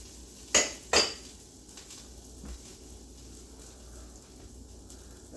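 A metal pan shifted off a stove burner while a pork tenderloin with Dijon cream sauce cooks, giving two sharp clanks close together, then a fainter knock in a quiet kitchen.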